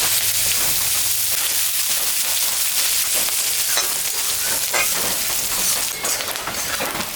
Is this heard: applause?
no